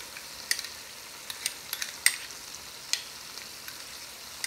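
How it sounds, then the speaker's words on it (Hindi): Cream stirred into sizzling mutton malai boti masala in a pan, a steady fizzing sizzle with scattered sharp pops and spatters, moderately close and without talk. "अब हम इसके अंदर क्रीम को ऐड कर देंगे।"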